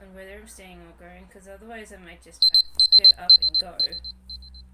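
Electronic alarm clock going off with a rapid series of high, shrill beeps in short bursts, sounding close and loud after a person speaking quietly.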